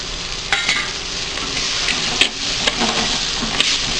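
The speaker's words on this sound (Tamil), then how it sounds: "ரெண்டு தூளையும் நல்லா எண்ணெயில் வணக்கிடணும்." Turmeric and sambar powder fry in hot oil for a Tamil vathal kulambu while being stirred: a steady close sizzle with periodic scraping stir strokes, no voices.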